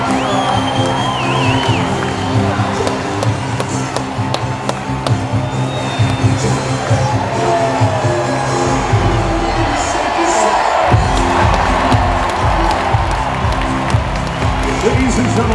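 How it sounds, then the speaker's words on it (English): A stadium crowd at an Earthquakes soccer game at Levi's Stadium cheers and applauds in a broad, steady wash of clapping and whoops that runs throughout, with a voice over a loudspeaker. "Ladies and gentlemen, one more big round of applause for tonight's Fast Track."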